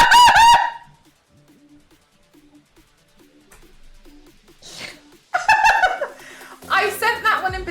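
A person imitates a crow with loud, harsh caws: one burst at the start, then a quiet pause with faint ticking, then a run of raspy repeated calls toward the end.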